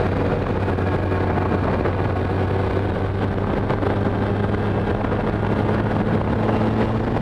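A Kawasaki ZX-12R motorcycle cruising at about 3,500 RPM, a steady low engine drone mixed with heavy wind rush, constant and close for several seconds without talk.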